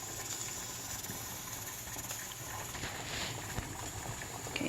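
A pot of Hoppin' John beans boils on the stove, giving a continuous close rumbling hiss with bubbling texture and a few light knocks, steady throughout with no voices.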